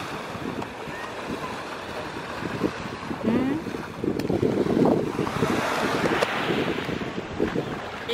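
Ocean waves breaking on a beach at Playa Tortuga in Cancún, a steady rushing surf with wind buffeting the microphone, swelling louder midway and continuing as a broad wash.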